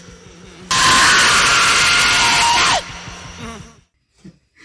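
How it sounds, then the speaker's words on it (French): Hysterical, almost inhuman screaming in a song, a harsh, loud burst of distorted shrieking for about two seconds over a pulsing electronic beat, then dropping back to the throbbing rhythm before near silence. "pousser des hurlements hystériques d'une intensité, disons, déstabilisante. Des cris presque inhumains."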